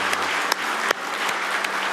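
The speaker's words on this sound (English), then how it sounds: "Give them another round of applause, you guys." Audience applause for a youth worship band in a church setting, a steady wash of clapping sustained across two seconds with a few sharper claps standing out.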